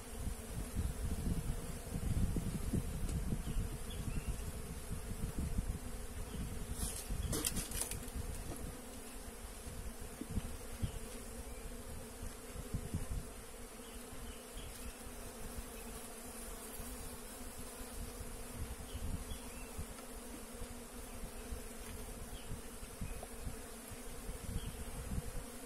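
A dense swarm of honeybees buzzes during a hive inspection in a city, the swarm having been taken from a tree, with a continuous close drone and faint handling rustles throughout.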